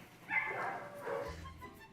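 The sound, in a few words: dogs barking at animal shelter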